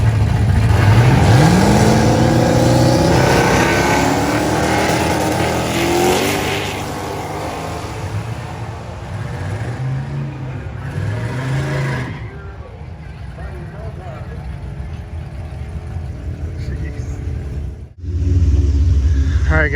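A Whipple-supercharged Shelby launches hard at a drag race against a GTR. The engine roars loudly and climbs in pitch through several gear changes, then settles into a steadier drone as the car pulls away.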